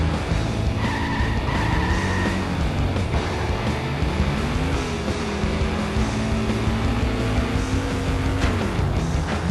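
Tires squeal and skid loudly as a 1970s sports car engine revs and shifts pitch in The Simpsons: Hit & Run, with a steady dense roar of racing and sliding throughout.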